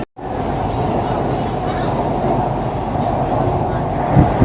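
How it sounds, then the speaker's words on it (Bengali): A Kolkata metro train runs underground just before passing beneath the Hooghly River, giving a loud, steady roar and rumble from inside the carriage that continues unbroken, with faint clicks and no clear talk. "এক্ষুনি ট্রেনটি হুগলি নদীর নিচ দিয়ে যাবে"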